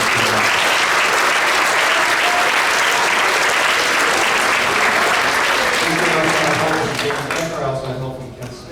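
At a middle school eighth grade band concert, the audience breaks into loud, sustained applause for a helper. The dense clapping fills most of the stretch, then thins and fades as a voice starts speaking near the end.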